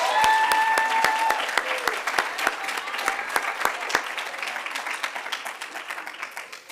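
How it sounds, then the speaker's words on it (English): An audience at an oratorical contest claps for a speaker. The applause is dense and sustained at first, then thins into scattered individual claps, with a voice briefly heard over it. "One more round of applause for Amaya Martinez."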